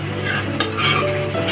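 A metal spoon scrapes and clinks against a pot while rice is served, with chicken cooking alongside; a short, close clatter sits over a steady low sizzle.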